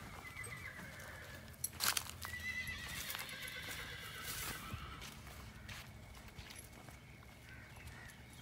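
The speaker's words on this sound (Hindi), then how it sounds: "माशाल्लाह जी घोड़े की ट्रेनिंग देखें आप" A horse in training at a rural estate, heard with hooves clip-clopping steadily on the ground and a brief neigh partway through, moderately close over a murmur of background activity.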